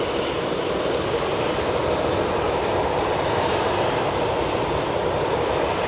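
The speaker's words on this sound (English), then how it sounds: "That Ryanair was off to Bologna" Ryanair jet taking off from Manchester Airport for Bologna, a loud sustained engine roar holding steady throughout with no voices.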